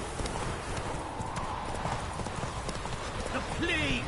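Roach the horse gallops in The Witcher 3, a steady drumming of hooves under a dense game soundscape, with a short whinny rising near the end.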